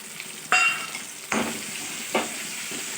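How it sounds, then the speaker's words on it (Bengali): Okra masala with mustard and poppy seed paste frying in a pan, a steady close sizzle broken by three scraping stirs of a spatula. "ঢ্যাঁড়সের মশলাটা আমি কষাচ্ছি তো দেখো সর্ষে আর পোস্ত বাটাটা দিয়ে দিচ্ছি"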